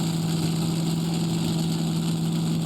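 Turbocharged Allison engine on a modified pulling tractor at a county fair pull, heard as a loud, steady, deep idling drone that holds constant throughout without revving.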